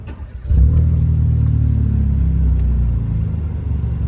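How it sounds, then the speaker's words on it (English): A 2013 Hyundai Veloster engine cranks and catches after a brief moment, then settles into a loud, steady, close-up idle rumble that eases slightly toward the end. "Turn on the car."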